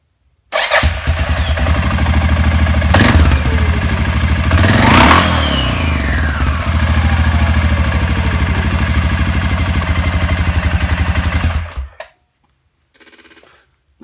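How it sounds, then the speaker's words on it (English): A 2014 Suzuki KingQuad 750 AXI ATV engine cranks, catches and runs at a steady, close idle with a brief rev for about eleven seconds before cutting off into silence. "Time to fire her up and give her a test run."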